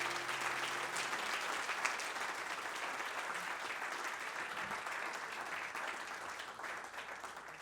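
Steady audience applause fills a live outdoor-style concert setting at Fur Peace Ranch, a dense crowd clapping continuously and evenly throughout, moderately loud, tapering slightly toward the end with no talk over it.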